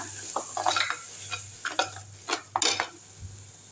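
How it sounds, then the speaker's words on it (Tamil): Ground masala paste sautéing in a pan for Tirunelveli-style fish curry, with a constant sizzle and repeated clinking, scraping stirs of a utensil. "அந்த மசாலாவை வந்து இதிலே ஊற்றிடலாம் எல்லாத்தையும் சேர்த்து நல்லா வதக்கி விட்டுருங்க"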